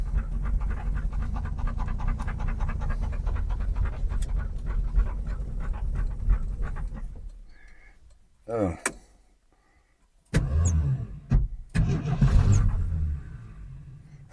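Old truck engine idling with its ignition switch stuck on, a rough, close running chatter for about seven seconds before it dies away, followed by scattered clicks and bumps with people talking.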